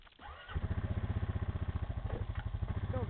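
On a small woods road, a vehicle engine catches and settles into a fast, even, pulsing idle heard fairly close, a steady mechanical chug with no voices.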